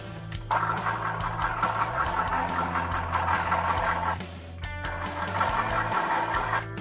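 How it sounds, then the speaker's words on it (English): The gearbox of a WPL RC car whirs under throttle, a steady electric motor and gear whine that drops and shifts pitch as the gear shift is worked, briefly pausing before spinning up again. "Throttle, and then your gearbox will start turning."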